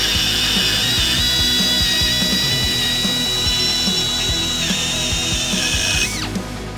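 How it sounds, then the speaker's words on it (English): A small bevelling tool with a guide bearing whines steadily as it is dragged along a metal edge to cut a straight bevel, with a constant high-pitched hum and busy grinding chatter, then stops abruptly near the end. "Just drag the little bearing across the edge of it. Puts a nice straight bevel on there."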